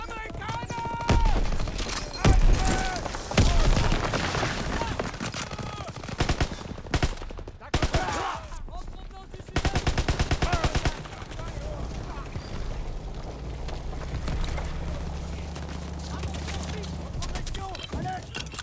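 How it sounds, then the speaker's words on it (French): Machine gun fire in the Normandy landing of Call of Duty: WWII comes in loud rapid bursts and scattered shots, with explosions and battle noise mixed in, while soldiers shout in French over the combat. "Impossible d'avancer, ces mitrailleuses tirent sur notre position."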